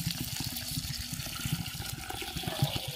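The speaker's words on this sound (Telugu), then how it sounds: "వాటర్ పోసేస్తాను" Water is poured into a bowl of soaked mixed grains for multigrain dosa batter, making a soft, continuous splashing and trickling that stays quiet and close.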